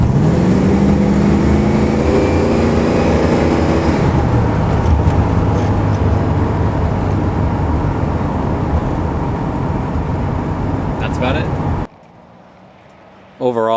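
The engine of a 1970 Ford Cobra Torino drones loudly and steadily from inside the cabin as the car drives, with a rising tone early on, someone talking over it, then a brief drop to near quiet near the end.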